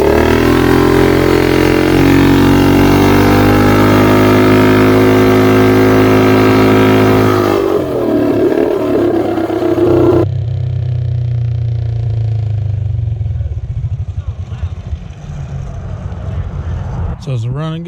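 A Gambler BT200X motorcycle engine runs and revs, rising in pitch and then dropping off before settling to a rougher idle, loud and close, with a short burst of background noise near the end.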